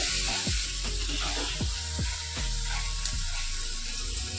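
Spice paste with chicken liver fries in oil for ghughni, a steady close sizzle with repeated rhythmic scraping strokes of stirring at roughly half-second intervals and no talking.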